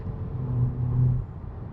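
A 2026 Honda Prelude accelerates, its engine giving a steady low rumble that swells briefly, then eases back, heard from inside the cabin with no talking.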